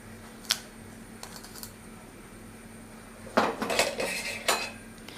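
Blunt knife edge striking and cracking the eye of a coconut shell, a few faint, close knocks followed by a short cluster of clattering taps in a quiet kitchen.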